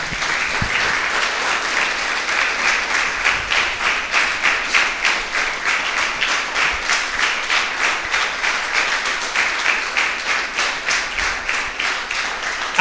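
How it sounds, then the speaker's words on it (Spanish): A church congregation claps in strong unison rhythm for the Lord during a sermon, rapid, even beats continuing for over twelve seconds at a steady loud level. "Vamos a darle un aplauso al Señor."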